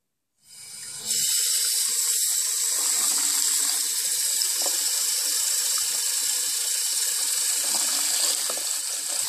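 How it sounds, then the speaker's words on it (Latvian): Water runs steadily from a tap turned on full, a loud continuous hissing gush that starts abruptly and stays strong and close throughout, with no talking. "man ļoti patīk augstu ūdeni, tāpēc es slēdzu augstu ūdeni"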